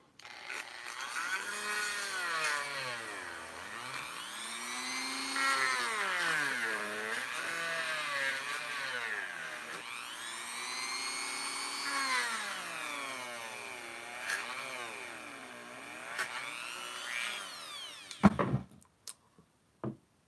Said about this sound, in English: let me start to sand this thing out.